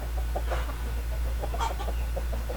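Chickens, including a hen, cluck in short, scattered bursts over a constant low hum, with a Basilan rooster among them, fairly close.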